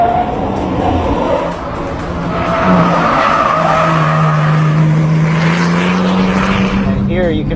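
A 2010 Porsche 911 Turbo in Sport Plus mode driven hard around the Estoril race track, its engine note rising and holding loud with tire squeal and skidding, while someone talks over it.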